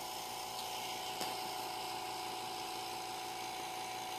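A vacuum pump used for a carbon fiber and Kevlar layup runs with a steady, even motor drone and whine, constant and fairly close, with one brief click partway through.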